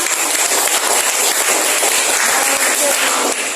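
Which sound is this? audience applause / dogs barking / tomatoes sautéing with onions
audience applause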